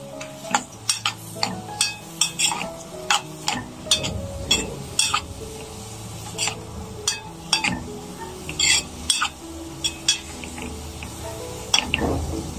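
Spiced freekeh with kofta being stirred and sautéed in a pot: repeated scraping and clinking of a utensil against the pot in an irregular rhythm over a low sizzle, close and fairly loud, with no talk.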